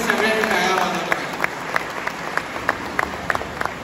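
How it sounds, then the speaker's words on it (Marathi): An audience at a Ganpati festival meeting claps, first as a brief burst and then as scattered, thinning individual claps with a faint hum behind them. "त्यांच्यासाठी सगळ्यांनी टाळ्या वाजवल्या"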